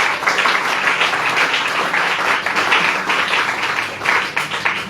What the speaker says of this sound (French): Acclamons plus fort pour la gloire du Seigneur.